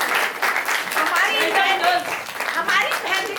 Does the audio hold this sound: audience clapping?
yes